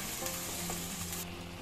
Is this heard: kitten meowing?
no